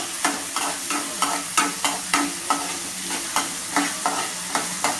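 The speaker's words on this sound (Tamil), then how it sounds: "நல்லா வெங்காயம் பொன்னிறமாக வதங்கணும் வதங்கினது பிறகு" Onions sautéing in a pan until golden for a Tamil anchovy fish curry, with a steady sizzle under about a dozen regular, crisp spatula scrapes and taps spread evenly through the clip, close and moderately loud.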